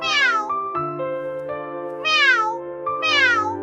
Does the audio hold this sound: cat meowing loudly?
yes